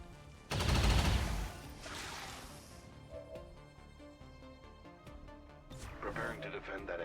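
Gunfire in the turn-based tactics game Long War of the Chosen: a loud close burst of shots early on with a rumbling tail, then a smaller crackling volley near the end under game music and a speaking voice.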